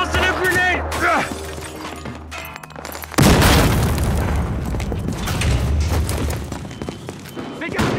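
A frag grenade detonates in the Battlefield Hardline Bank Job map with a sudden loud boom and debris crash, followed by rumbling gunfire and chaotic battle noise. Voices call out earlier in the clip.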